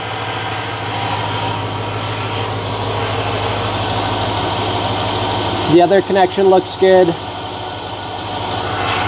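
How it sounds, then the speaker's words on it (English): A Chevy LS engine idles steadily in the background, a smooth continuous hum under a man's close speech, with a few brief clunks partway through. "It's not idling weird, so I don't think we have any intake leaks."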